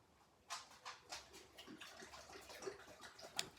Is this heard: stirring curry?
no